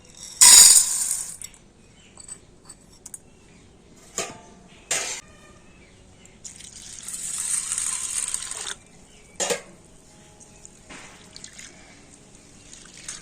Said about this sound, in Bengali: জল দিয়ে ছোলার ডালটাকে খুব ভালো করে ধুয়ে নিতে হবে